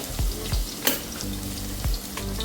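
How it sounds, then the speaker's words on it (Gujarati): Garlic and ginger paste sizzles in hot oil for a Kathiyawadi dhokli shaak, a steady close frying hiss with a few soft knocks and scrapes from stirring, no voices. "હવે આપણે એમાં લસણ અને આદુની પેસ્ટ એડ કરશું તેલ ગરમ સરસ થઈ ગયું"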